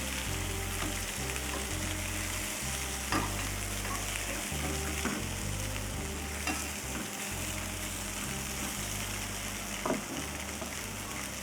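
Baby potatoes fry in a pan with a steady, dense sizzle that runs throughout, with a few light clicks as they are turned, over a low rumbling background.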